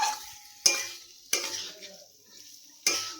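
Fried stingray pieces are stirred into spice masala in a pan: three or four sharp spatula clanks and scrapes against the metal over a faint, low sizzle.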